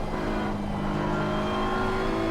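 A BMW M4 GT3 race car's engine drones under steady throttle in a racing game at the Barcelona circuit, with a loud, sustained rising tone and no talk.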